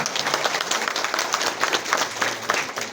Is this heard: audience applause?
yes